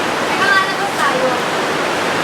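Floodwater rushes in a loud, steady roar of broadband noise around a tent, with a faint voice briefly audible beneath the water.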